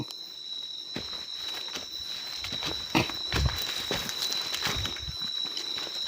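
An insect drones in a forest with a continuous high, thin chirring hum. Scattered footsteps and rustling sound up close, with one sharper thump partway through.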